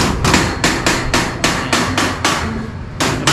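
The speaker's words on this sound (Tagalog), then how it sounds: "Pukpok na ang pukpok." A hammer pounds repeatedly while a table is being built, making about a dozen loud, close blows at a fairly steady pace, each with a short ringing tail.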